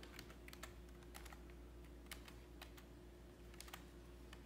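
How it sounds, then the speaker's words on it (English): Scattered keystrokes on a computer keyboard, quiet and close, come in short irregular bursts of clicks over a low steady hum, with no talking. "I probably can't type and talk at the same time."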